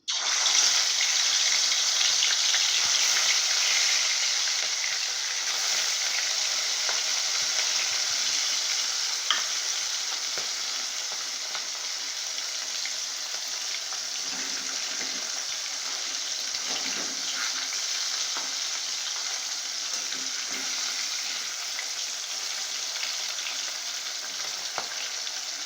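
Pieces of catla fish fry in hot oil for dahi katla, giving a dense, even, close sizzle that holds steady throughout with faint occasional clinks and no speech.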